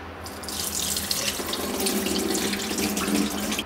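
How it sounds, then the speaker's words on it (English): Running tap water pours steadily into a bowl of rice being rinsed, a loud continuous rush with faint splashing throughout; no voices. "I'm just gonna wash this rice 3 times to take out a lot of its wheat starch out"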